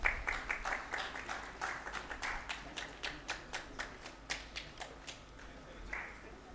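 At a memento presentation during an education course event, a small group claps in a sparse, rhythmic run of distinct hand claps, moderately faint in a reverberant hall, tapering off near the end.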